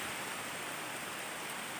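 Steady rain hisses evenly around a house, a dense broadband wash with no distinct drops or voices.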